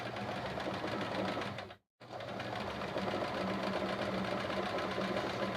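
A sewing machine runs steadily during free motion quilting, with a dense, close mechanical stitching whir that halts for a split second partway through and then resumes without talk.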